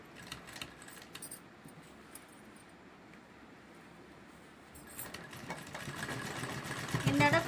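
A sewing machine stitches seams on a chair cushion, running quietly and softly at first, then growing louder and busier toward the end, with faint light clinks and no voices.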